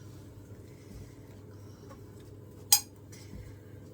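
A metal spoon clinks against dishes while okra soup is served, a quiet scraping background broken by one sharp, bright clink and a softer knock shortly after.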